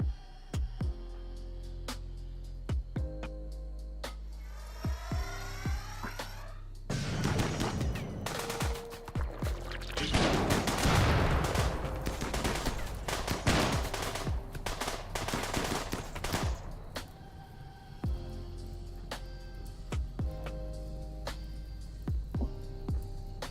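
Gunfire in the colony game Rimworld from several guns and a marksman rifle, scattered sharp shots and dense rattling bursts over a steady low hum, sparse at first, then building into a heavy exchange.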